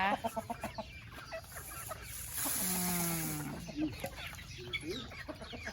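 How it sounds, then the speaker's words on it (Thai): Chickens cluck in short bursts close by, with a brief rising squawk in the middle and outdoor background noise throughout. "เลี้ยงไก่เลี้ยงไก่นะคะ"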